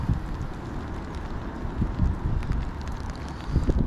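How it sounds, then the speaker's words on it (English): Gusty wind buffeting the microphone at a fishing lake on a rainy day, a steady rumbling roar that swells and eases, with no talk. "It's a little bit windy, it's quite rainy"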